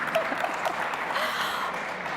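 Audience at a football league launch event clapping briefly, a modest scattered round of applause that thins out and fades, with a few small vocal noises near the start.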